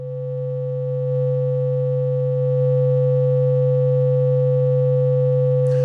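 A steady, pure sine-wave tone from a ModAmp Module 1005 synthesizer hums continuously, holding one pitch with faint overtones, growing slightly louder at first and then sustaining alone.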